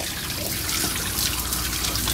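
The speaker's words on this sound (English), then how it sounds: "And I do the head back and then spray the eyes, rinse them so they go back out of the eyes." Water sprays steadily to rinse a dog's eyes, a close, continuous hissing splash with no pauses.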